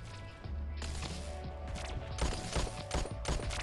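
Rapid gunfire in the Pixel Gun 3D shooter game from a legendary fan-themed revolver, a dense burst of sharp shots and impacts over game music, loud and close.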